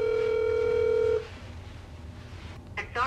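Telephone dialing: a loud, steady tone holds for just over a second, then cuts off into quiet line hiss, with a brief burst of voice near the end.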